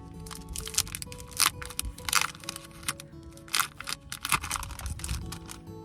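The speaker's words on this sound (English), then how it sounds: "I would unwrap my nature journal" Paper and plastic wrapping around a nature journal crinkle and crackle as it is unwrapped up close, in quiet bursts of rustling and crunching with short pauses between.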